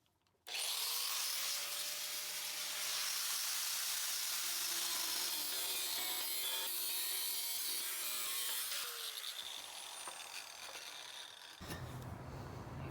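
A power saw cuts a piece off a fishing sonar transducer mount in one loud, continuous, close grinding run lasting about eleven seconds, then stops abruptly.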